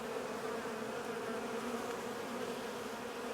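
Honeybees buzz at an open hive during an early spring split, a dense, steady, close drone that never lets up.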